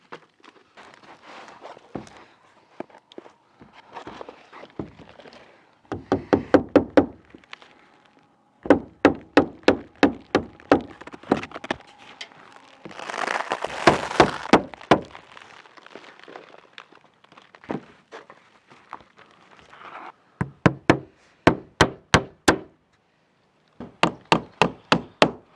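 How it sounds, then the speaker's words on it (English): Bursts of sharp hammer strikes nailing up roofing felt paper, several quick blows in each run, separated by pauses and rustling as material is handled nearby. "so I can hang my felt paper up. And then I have my hammer."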